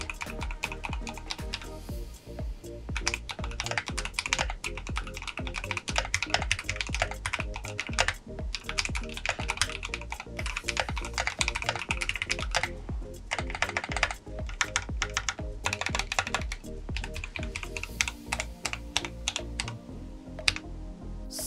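Continuous fast typing on a Glorious GMMK Pro aluminium mechanical keyboard with linear Glorious Fox switches and white PBT keycaps, a dense stream of close, crisp keystroke clacks with occasional louder thocks from larger keys, without talk.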